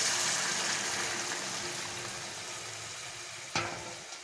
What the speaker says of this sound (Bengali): এবারে আমি এর মধ্যে গরম জল দিয়ে দিচ্ছি।